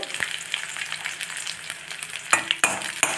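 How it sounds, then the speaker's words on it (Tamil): Kandangathiri brinjal sizzles as it is sautéed and stirred in a pan, a steady fry with scattered spatula scrapes and a few sharper knocks near the end. "இதை வறு வறு வதக்கி கொடுத்துட்டு"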